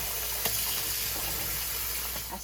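Tap water runs steadily into a sink while tripe is washed in vinegar water, a continuous close gush throughout with no talk.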